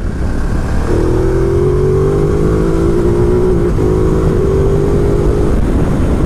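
Engine of a 2019 Ducati Multistrada 950 S motorcycle revving steadily through a gear change, a sustained droning tone that holds for several seconds with a brief dip midway, close and loud over road noise.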